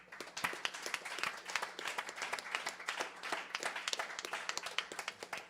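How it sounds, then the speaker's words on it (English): Audience applause at the campfire. festival on Labor Day 2021, a quiet, dense patter of many hands clapping steadily throughout, heard from a distance. "how about a round of applause for that guy back there with the mask on"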